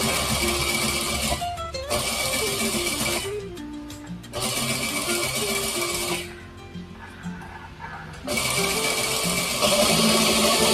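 A sewing machine stitches a chudi neck onto canvas, running close and steady in several bursts of rapid stitching separated by short pauses.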